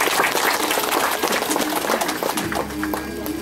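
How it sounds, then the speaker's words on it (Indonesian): An audience at a Balinese performance claps steadily, a dense wash of applause that fades slightly toward the end, with crowd murmur mixed in. "tepuk tangan teman-teman"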